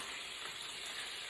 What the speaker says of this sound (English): frying pan back on the heat, and you're just going to add in your veggies